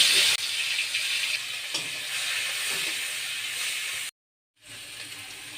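Fish fries in hot mustard oil, a bright continuous hiss and sizzle up close, steady for several seconds before briefly cutting to silence and resuming.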